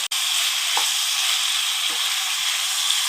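Chopped raw banana and onion fry with turmeric in a hot pan, giving a steady, loud, dense sizzle throughout with faint stirring scrapes and no talking.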